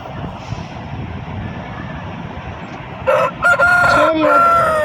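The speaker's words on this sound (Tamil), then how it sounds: "போயிட்டு பார்த்தா சேவல் கூவிட்டு இருந்துச்சு." A rooster crows loudly nearby in the last couple of seconds, its call broken into rising and falling segments over a steady outdoor hum.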